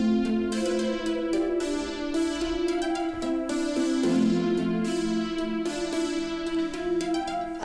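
Another sustained synth pad added for a chorus section of an electronic track, warm held chords with bright plucked accents repeating in a regular pulse, music alone and moderately loud.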